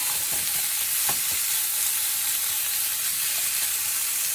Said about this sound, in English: I'm going to put my bacon, and I'm going to render that down